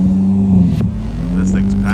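A turbocharged car with a stock engine rumbles close by at a Cars and Coffee meet, its low hum briefly swelling under people talking.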